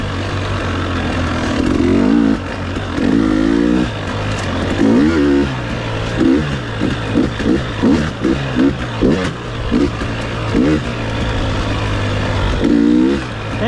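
A KTM 300 XC-W two-stroke dirt bike engine revs hard and repeatedly on a trail endurance ride, rising and falling in quick bursts with a steady low drone between, loud and close under wind noise.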